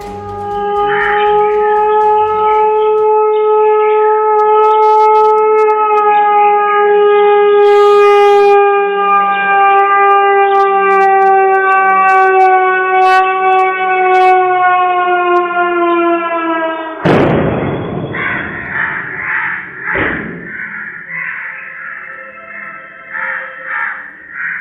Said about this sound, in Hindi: सियालकोट में जंगी सायरन रात भर बजता रहा।